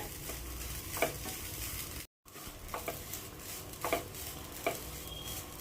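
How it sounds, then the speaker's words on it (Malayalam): Grated coconut roasts in a pan over a medium-low flame, a soft steady crackle with periodic spatula scrapes and taps as it is stirred, fairly quiet with a brief silent gap midway. "ഇനി നമുക്ക് ഈ തേങ്ങ ഒന്ന് വറുത്തെടുക്കാം മീഡിയം ടു ലോ ഫ്ലെയിമിൽ വെച്ച് കൊടുത്തിട്ട് വേണം തേങ്ങ വറുത്തെടുക്കാനായിട്ട്"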